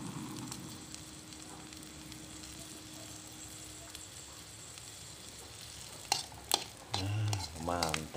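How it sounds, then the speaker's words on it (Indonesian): Chili peppers frying in oil for sambal over a flame that cannot be turned down give a faint, steady sizzle with a low hum; clattering utensils and a short burst of voice come near the end. "Cabai ini digoreng"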